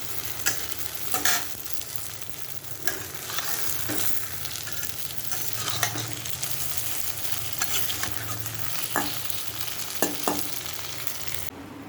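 Bora fritters frying in a wok, a steady hiss of hot oil with scattered pops and occasional sharp clinks and scrapes of a utensil, close and continuous with no talking.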